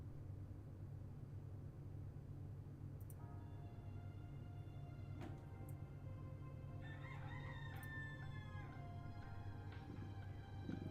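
A rooster crows over a low steady background hum, a drawn-out strained call rising toward the end and fairly faint.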